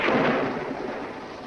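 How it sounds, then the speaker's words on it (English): A deep rolling rumble of thunder in a 1948 American noir drama film, loud at the onset and slowly decaying over a second and a half, with no talk. "When there's thunder,"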